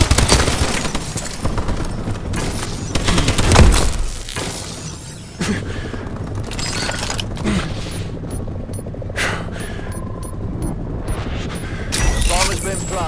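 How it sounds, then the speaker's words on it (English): Sniper gunfire in the futuristic shooter Call of Duty: Advanced Warfare, a loud sharp crack near the four-second mark amid dense battle noise, scattered impacts and bursts throughout, with game voices speaking over it. "Sniper fire, take cover!"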